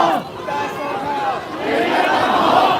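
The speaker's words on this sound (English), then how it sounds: "the crowd is still very passionate" A passionate crowd of protesters outside PolyU chants and shouts loudly and close by, with many voices blending into a sustained roar that swells and dips.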